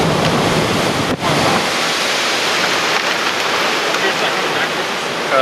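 A mile-wide tornado near Sulphur, Oklahoma, in May 2016 gives off a loud, continuous broadband roar like rushing wind and surf, steady throughout with one brief dip near the start.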